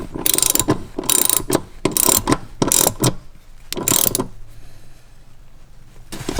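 A ratchet wrench clicks in quick bursts while a seat bracket bolt is tightened inside a Chevy Colorado, with several loud close ratcheting strokes separated by short pauses.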